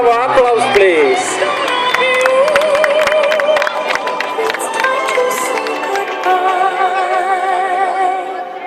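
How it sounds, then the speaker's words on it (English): Crowd at an air show in Athens cheering and clapping, a loud, continuous wash of applause and voices, with a tonal whine running through it that may be aircraft. "Bravo! Bravo, applause please."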